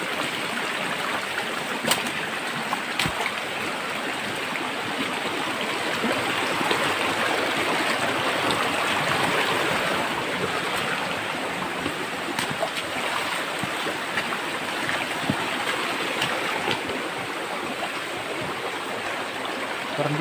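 A creek flows steadily outdoors, giving a continuous broad rushing hiss of moving water. It is even and moderately loud throughout, with a few faint clicks and knocks nearby and no talk.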